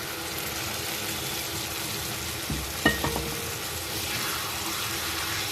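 Prawns fry in a clay pot under a soft, steady sizzle. A couple of brief clattering knocks come as they are stirred, with no voices.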